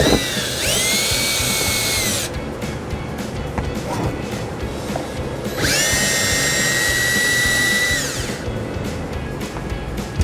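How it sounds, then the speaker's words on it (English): Power drill spins bumper fascia screws out of a 2016 Ford Escape in two loud, close whirring bursts, each about two to three seconds long, with a gap of quieter shop noise between them. "I'll go ahead and take the bumper fascia screws off as well."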